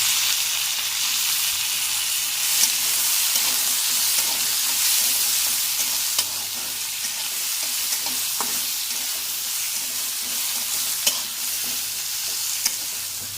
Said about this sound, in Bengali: আমার পেঁয়াজটা যখন হালকা একটু ভাজা হয়েছে এর মধ্যে আমি একটু টমেটো কুচি দিয়ে দেবো।